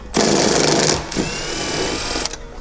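Power tool driving out T50 bolts inside a Ford Bronco, two loud close bursts of high-pitched whirring motor separated by a brief pause, then a short tail-off.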